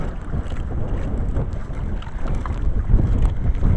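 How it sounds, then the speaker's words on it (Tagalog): Big sea waves roll and wash around a small boat at sea, a loud continuous churning swell with gusts of wind buffeting the microphone. "Ang lalaki ng alon."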